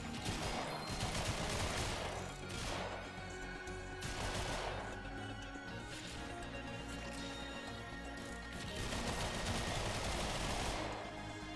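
Gunfire in the game Warframe; rapid bursts of shots come in repeated clusters, fairly quiet overall, with a constant game soundscape underneath and no voice heard.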